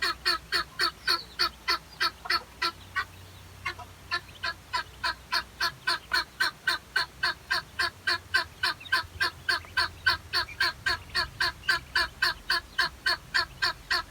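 Many muscovy ducklings peep continuously in a dense, rapid chorus of high, repeated calls, steady and close throughout.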